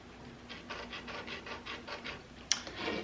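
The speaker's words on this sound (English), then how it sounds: "So I'm just going to draw my line down here." A pencil draws a line along a piece of wood, heard as a run of soft, evenly spaced rubbing strokes close up, followed by a sharper tap and a brief scratch at the end.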